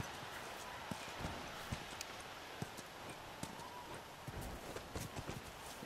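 Rhythmic hoofbeats in the video game The Last of Us clip-clop steadily over a constant generator hum, a horse walking at moderate distance with faint scattered noises.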